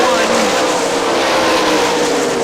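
Sprint cars racing at Hartford Speedway, a loud, continuous engine roar from the pack at speed, with a race commentator talking over it.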